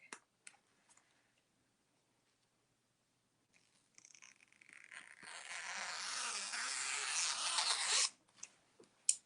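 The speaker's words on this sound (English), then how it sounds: "So I'm going to cut it real quick." Scissors cutting through a heat transfer sheet, a few faint snips followed by a steady close rasping slice lasting several seconds, then a couple of light taps.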